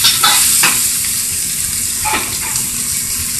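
Beef and chow fun noodles go into a hot pan and are stir-fried, a strong steady sizzle with a few scraping stirs and wet splashy bursts near the start and middle, up close and without talk.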